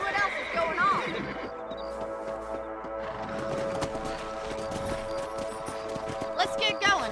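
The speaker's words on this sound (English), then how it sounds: "Let's get back on the horses and see what else is going on." Horses ridden across open ground in the Red Dead Redemption western video game give off steady clip-clopping hooves beneath a musical score, with speech heard at points.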